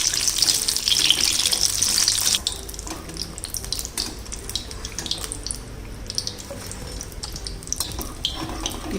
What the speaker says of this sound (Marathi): आता अशीच बाकीची पण भजी तळून घेऊया आपण.